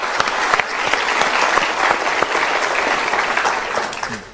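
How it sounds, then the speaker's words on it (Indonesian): A crowd applauds steadily, with dense clapping from many people filling the room at an even loudness throughout. "Kita berikan tepuk tangan dulu."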